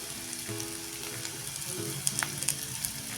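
Diced potatoes sautéing in a nonstick pan for jeera aloo give off a steady close sizzle, broken by a few soft clicks of stirring and sharp little pops, with no talking.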